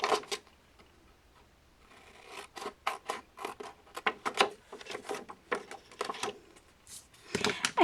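Scissors snip out the corners of a paper Bible craft page for kids, giving a close series of crisp, irregular cuts with short pauses between bursts and no talking.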